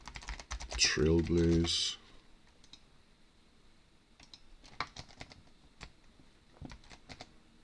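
Computer keyboard typing during a Black Desert Online game session, a quick burst of clicky keystrokes early on, then scattered lighter key taps, with a voice talking intermittently.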